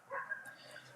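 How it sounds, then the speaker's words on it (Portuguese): Neighbors' dogs barking somewhere beyond the room, a few faint, distant barks and yips sitting low under a quiet background. "eu vou competir aqui com os cachorros dos meus vizinhos"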